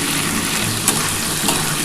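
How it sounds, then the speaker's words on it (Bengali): Potato pieces frying lightly in a pan for Bengali aloo posto, a steady broadband sizzle with faint stirring clicks, close and even throughout with no talking. "হালকা করে ভেজে নিচ্ছি।"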